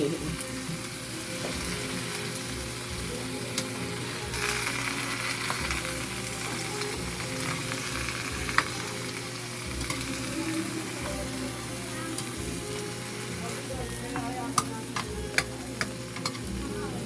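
Water spinach sizzles and crackles steadily in a small hot pan, close up, with occasional sharp ticks of a utensil against the metal.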